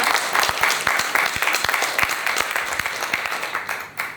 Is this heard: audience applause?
yes